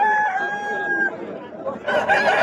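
A rooster crows loudly and close by at a cockfight practice, one long drawn-out call followed by rougher clucking and crowing bursts, with faint voices beneath.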